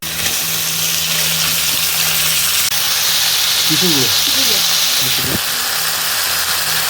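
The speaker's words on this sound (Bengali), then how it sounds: "কড়াইতে মালাইকারি করার জন্য তেল আর তেজপাতা নেড়ে নিচ্ছে" Oil and bay leaves being stirred in a wok while cooking malai curry, a continuous bright hiss of sizzling with a few scraping stir sounds, as a voice speaks over it.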